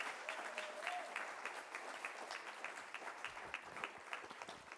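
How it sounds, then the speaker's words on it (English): Modest audience applause in a community panel discussion room, individual claps distinct and fairly quiet, continuing steadily for several seconds. "Will you help me by giving this group of Texans a nice applause?"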